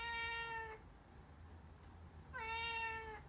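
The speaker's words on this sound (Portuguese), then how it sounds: "Se ouvirem uma ladainha assim pelos cantos da casa, é uma das minhas gatas que está a sofrer de amores" A female cat in heat wails indoors, two long, drawn-out tonal yowls separated by a short pause, close and clear with no talk.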